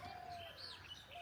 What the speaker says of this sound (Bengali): ঘুঘু ডাকছে ঘুঘু